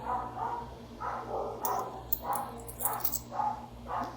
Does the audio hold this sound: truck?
no